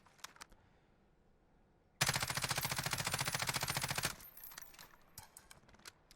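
Rapid automatic gunfire from a Ram 7 rifle in Warzone, one sustained burst of about two seconds with evenly spaced shots, loud and close, followed by fainter scattered clicks and ambient game sounds.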